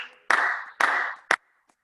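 Three ritual hand claps at a Japanese-style memorial service and ancestor blessing, sharp and close in an otherwise quiet room; two spaced claps, then a third after a shorter pause.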